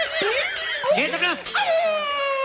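A woman imitates a dog crying and whimpering, with wavering, howl-like wails rising and falling close up for about two seconds on a comedy stage show.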